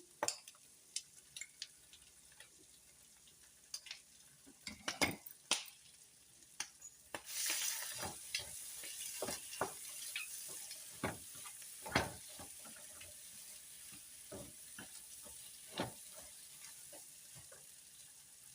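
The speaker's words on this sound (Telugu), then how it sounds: "ఇప్పుడు మనం ఈ గసగసాల పేస్ట్ అయితే వేసేసుకుందాము" Poppy seed paste fried in a pan: quiet clicks of a spoon at first, then a soft, steady sizzle that swells in with repeated scraping stirs close by.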